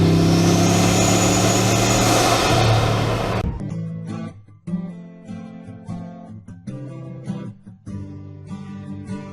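A loud car engine roars and revs hard, then the noise cuts off abruptly and music with a beat takes over.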